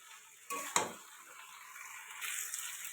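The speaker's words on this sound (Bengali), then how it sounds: "এটা ভালো করে কষাতে থাকবো।" A spatula scrapes and clinks against a pan amid a soft sizzle of curry with turmeric, okra, potato and prawns sautéing, with a couple of sharp stirring strokes.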